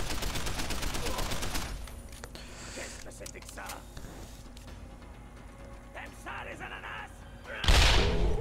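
A dense burst of automatic gunfire from the video game Deus Ex: Human Revolution opens loudly, then gives way to scattered thuds and softer combat noise, and a heavy impact near the end.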